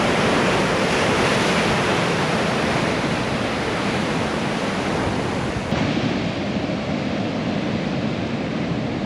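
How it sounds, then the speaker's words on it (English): Ocean waves break and roll onto a Cornwall beach, a loud continuous surf wash that fills the whole stretch, with steady wind noise and no voices. "look at the size of this wave coming"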